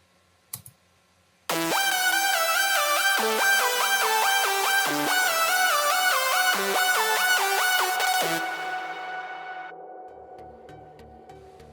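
Layered synth lead from a remake, a bright stack of stepping notes that plays loud and steady after a short click, then fades into a lingering reverb tail.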